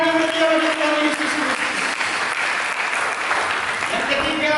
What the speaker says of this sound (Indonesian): Mari kita berikan tepuk tangan yang meriah bagi Tuhan Yesus.